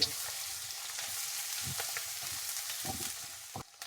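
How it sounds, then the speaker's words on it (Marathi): Finely chopped medium onion fries in the oil of a tempering, a soft, close sizzle with scattered clicks and scrapes of stirring and a short pause near the end. "1 मिनिट आपल्याला कांदा तेलामध्ये छान परतून घ्यायचा आहे।"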